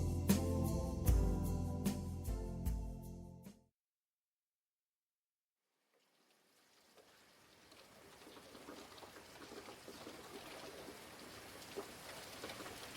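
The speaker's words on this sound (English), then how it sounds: "Rainy morning." Steady rain on a rainy morning, a soft, continuous patter that fades in after a brief silence and settles into a constant wash, following a short burst of music.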